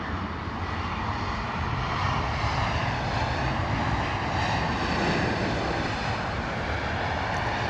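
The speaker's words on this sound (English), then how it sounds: "Lovely arrival there from the British Airways 320." A British Airways A320 airliner arrives at London Heathrow Airport, its engines producing a loud, sustained broadband roar that holds steady throughout, with no voices over it.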